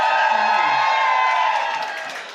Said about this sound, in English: Give me a cheer if you're a fan of horror movies in the audience.